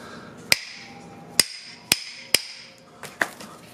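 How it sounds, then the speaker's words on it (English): A hammer taps a spherical suspension bushing into a Honda CRX Si part, six sharp metallic strikes spaced unevenly, each ringing briefly in a quiet setting. "Then use the hammer again."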